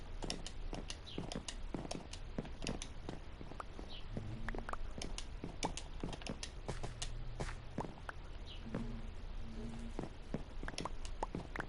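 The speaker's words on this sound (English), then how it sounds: "It's a horse!" Blocky horse hooves in the Minecraft survival game clip-clop in a steady run of sharp, close taps, with a few faint tonal game blips and soft background speech-like murmur beneath.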